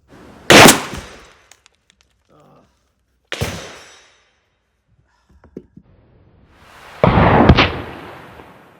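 A Mossberg 935 12-gauge shotgun fires Federal TSS tungsten shells outdoors, three loud, sharp blasts several seconds apart, each with a short echoing tail and faint sounds in between.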